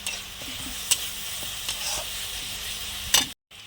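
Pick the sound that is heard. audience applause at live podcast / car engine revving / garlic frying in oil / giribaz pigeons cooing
garlic frying in oil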